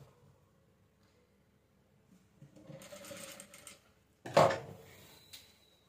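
Sewing machine stitching a kaftan dress in short runs, a soft mechanical whir building to a sharper loud burst of stitching near the end, with quiet handling noises between.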